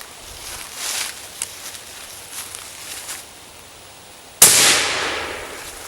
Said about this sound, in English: So we're going to shoot this 300 Win Mag and let you hear it first.